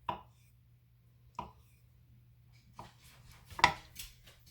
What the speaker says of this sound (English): So, I'm going to slice up some egg.